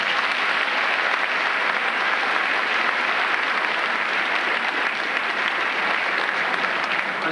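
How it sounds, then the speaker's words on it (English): Sustained applause from a large audience fills a graduation ceremony, a dense, even wash of clapping that continues steadily throughout without a break. "Let's have a round of applause for them."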